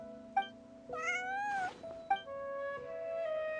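A cat in the video game Genshin Impact meows several times, short tonal calls and one longer drawn-out wail, clear and close against a quiet background.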